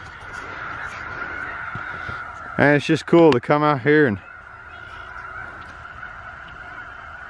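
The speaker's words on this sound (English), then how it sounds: "snow geese are migrating back." Migrating snow geese in a field of a huge flock, heard as a short burst of loud, close honking calls between stretches of steady background noise, with someone talking briefly before them.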